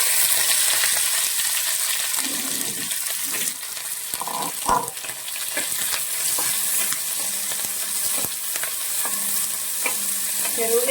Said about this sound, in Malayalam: ചെറുള്ളി നന്നായിട്ട് വഴറ്റിയെടുക്കണം.